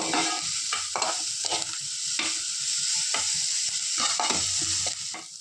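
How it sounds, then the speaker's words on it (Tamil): Onions and green chillies fry in oil for potato podimas, a continuous sizzle with repeated scraping stir strokes of a spatula against the pan, close and fairly loud, no voices. "அதனால் வெங்காயமும் பச்சை மிளகாவும் நல்லா எண்ணெயில் வதங்கணும்."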